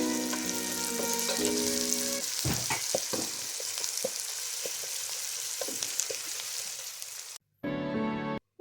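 Noodles with chopped chicken cooking in a pan give a loud, bright, steady sizzle with occasional utensil knocks, heard close, with a steady tonal hum underneath and a brief cut near the end before the sizzle returns.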